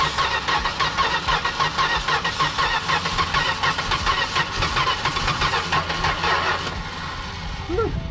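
A 1970 Plymouth Fury III's 318 V8 cranks and catches, its loud, rhythmic churning running steadily for several seconds before fading to a rougher, quieter engine sound, with a voice faintly underneath.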